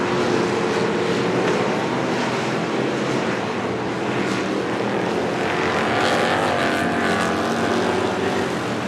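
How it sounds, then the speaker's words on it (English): Street stock race cars roar around Coos Bay Speedway, a steady, dense engine drone that holds at full volume throughout with no break and no voices. "but McIntyre has closed the gap, and he is on the back bumper of Osborne."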